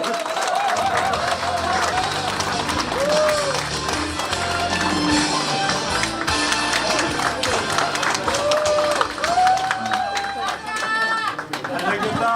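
Audience at a campaign office opening applauding to welcome a speaker, continuous clapping and crowd chatter with voices talking throughout.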